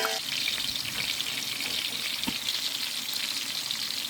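Steady oil sizzling as chopped large onions fry in a pan for Dindigul biryani, a continuous hissing crackle close by with a brief stir partway through.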